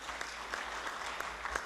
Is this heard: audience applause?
yes